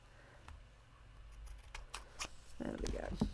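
Ribbon scissors make a few quiet snips and clicks while trimming paper or ribbon for handmade gift packaging, with soft rustling and handling noises close by.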